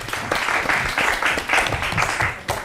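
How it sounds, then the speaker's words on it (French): An audience claps steadily for a self-taught artist being introduced on a French-language TV show, a dense, fairly loud wash of applause that carries on without a break and with no talking over it. "On l'applaudit très fort s'il vous plaît"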